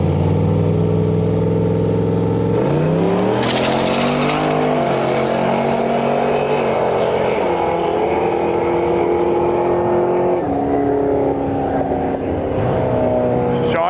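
A drag racing truck makes a run at Interlake Dragway during a Canada Day event. The engine roars loud and close, with rising revs and gear shifts that climb again and again over the whole run.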